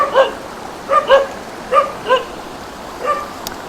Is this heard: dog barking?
yes